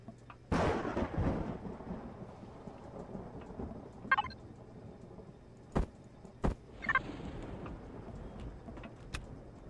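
Heavy rain pours steadily in the video game Empyrion while thunder cracks and rumbles several times, one long roll near the start and sharper claps later.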